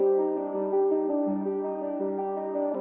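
Reversed melody loop in FL Studio from a breakdown of a song: a steady synth tone with sustained, shifting harmonic notes playing alone for a few seconds at even loudness.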